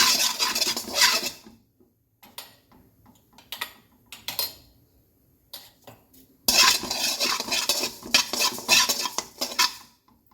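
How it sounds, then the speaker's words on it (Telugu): Two spoons of cumin seeds rattle and scrape as they are roasted and stirred in a kadai, with bursts of dense, close clattering separated by quieter gaps. "కళాయి పెట్టుకొని ఒక 2 స్పూన్స్ జీలకర్ర వేయించుకోవాలి."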